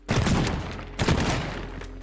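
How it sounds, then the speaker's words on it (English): Two heavy shotgun blasts from the voxel destruction game Teardown, each a loud boom followed by crumbling debris as a small hole is broken in a wall. "I'm gonna maybe break a small hole with a shotgun"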